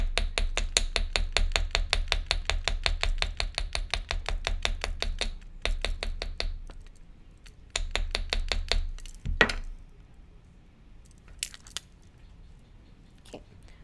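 Rapid, light metallic hammer taps on wire resting on a block strike in quick rhythmic bursts, pausing between runs, then give way to a few scattered clinks and near silence.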